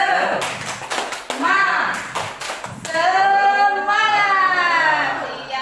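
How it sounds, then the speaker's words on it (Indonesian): A seated group of adults in an Indonesian training session claps a short patterned cheer rhythm, a few sharp, synchronized clap bursts with brief gaps, followed by voices calling out the chant together loudly. "Tepuk semangat."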